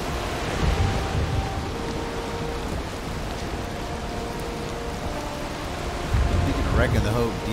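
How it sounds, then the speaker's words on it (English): Thunderstorm in the video game Valheim: steady heavy rain hiss with low rumbling thunder swelling near the start and again near the end, and a voice talking faintly underneath. "Look out for these storms."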